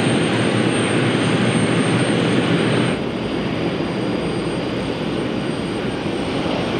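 ATR 72 turboprop airliner engine on an Aer Lingus flight, a loud continuous broadband roar with a steady drone heard from inside the cabin, easing slightly partway through, with no talking.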